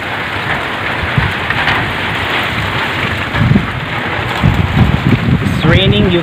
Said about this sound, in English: Now you can see, it's raining very wildly.